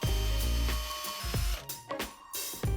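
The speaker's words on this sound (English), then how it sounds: "I'm gonna drill 3 holes in here for my little rebar pieces." A power drill bores holes to hold small rebar pieces while an earthbag off-grid house is built, whirring in several close, loud bursts separated by brief pauses.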